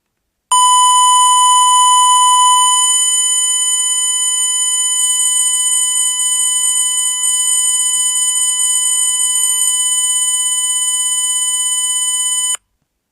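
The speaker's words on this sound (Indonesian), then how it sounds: "lampu menyala serta buzzer menyalakan suara" A microcontroller temperature-monitoring buzzer alarm sounds continuously, starting with a steady high beep and then holding a harsh, shrill tone for about twelve seconds.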